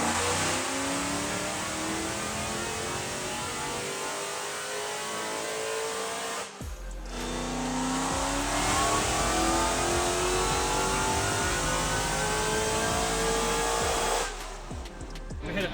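A manual-transmission Dodge Demon strapped to a dyno roars at sustained high revs, its engine note climbing, briefly cutting out twice between long loud pulls.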